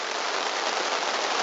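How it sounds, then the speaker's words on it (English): Heavy pouring rain falls steadily on a canoe trip campsite, a dense, loud, unbroken hiss with no other sounds. "we came back in the pouring rain"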